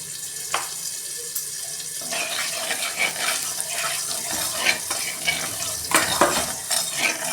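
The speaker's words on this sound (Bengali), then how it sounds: "আমি সয়াবিনটা ভেজে নিচ্ছি।" Soybean chunks seasoned with salt and turmeric fry in hot oil in a kadai, a steady close sizzle with scraping stirs and clinks running throughout, no talking.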